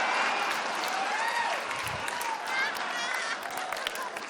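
A live comedy show audience claps and cheers for the drag performer Bianca del Rio, sustained applause with crowd voices and laughter mixed in, loud at first and easing slightly toward the end.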